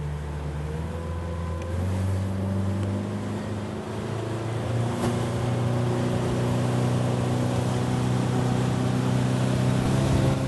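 A 40-horsepower motorboat engine drones steadily and close, its pitch climbing as the hull accelerates onto a plane at sea, with water and wind noise running underneath throughout.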